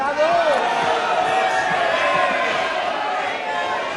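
A large crowd at a political rally bursts into dense, continuous applause mixed with cheering, loud and sustained for several seconds.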